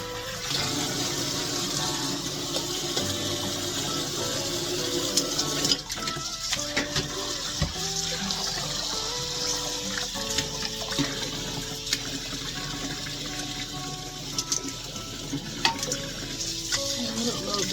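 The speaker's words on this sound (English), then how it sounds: "Got them on hot water wash them." Hot tap water runs steadily into a sink while produce is washed, a continuous hissing stream with small clinks and splashes, close and moderately loud, with faint talk underneath.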